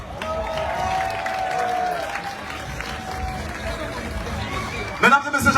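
Steady applause from a crowd at a carnival show in Guadeloupe fills the space, a broad wash of clapping with some cheering and chatter, a few louder claps near the end.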